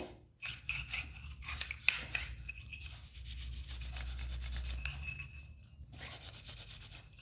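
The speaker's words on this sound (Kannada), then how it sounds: "ಸ್ವಲ್ಪ ಪೌಡರ್ ಹಚ್ಕೊಂಡು ಜಾಸ್ತಿ ಒತ್ತಿ ಉಜ್ಜೋದು ಬೇಡ, ಸ್ವಲ್ಪ ಹಿಂಗಂದರೆ ಎಲ್ಲ ನೀಟಾಗಿ ಕ್ಲೀನ್ ಆಗುತ್ತೆ" Scrubbing with cleaning powder, a steady gritty rubbing that rasps back and forth near and fairly loud, with brief pauses and a few sharper scrapes.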